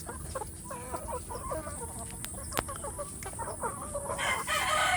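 Free-range village chickens, including grown hens: repeated soft clucks and cackles close by, with crowing in the mix, fairly quiet overall and with no talking.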